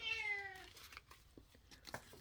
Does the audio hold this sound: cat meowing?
yes